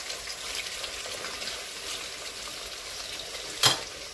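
Meat and onions fry for buckwheat plov, a steady soft sizzle with a sharp metal clink of the stirring spoon near the end.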